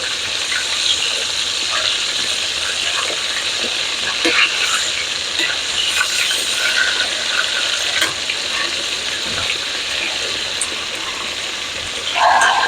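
Chicken fried steak frying in a hot pan, a steady loud sizzle and crackle that carries on throughout with small pops.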